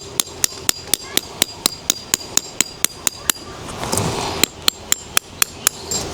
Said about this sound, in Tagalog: gagamitan natin siya ng peg. Buti na lang may martilyo tayo